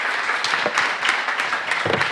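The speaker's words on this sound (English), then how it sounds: "a round of applause for Sebas, too, being here on the stage" A brief burst of audience applause for a speaker on stage at a conference, with a loose texture of claps and a few sharper individual hits standing out.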